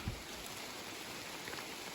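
Rain falls steadily on a camping tarp over a hammock, a faint, even hiss of dense drops with no breaks.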